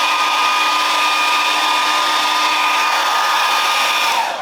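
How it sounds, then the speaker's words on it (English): A hair dryer blows steadily and loudly at close range while drying hair, a constant whirring rush that holds level for about four seconds before tapering slightly at the very end. "So you're just going to keep blow drying the hair until you get, you know,"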